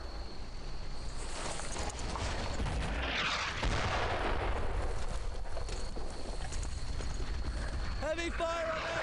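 Gunfire and artillery in the World War II shooter Brothers in Arms: Earned in Blood, a dense continuous battle din with booming blasts and scattered shots, loud and steady, with voices calling out over it.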